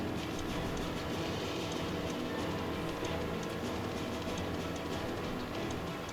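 A train in L.A. Noire rumbles steadily and loudly with continuous rolling rail noise and a faint rhythmic clatter, unbroken throughout.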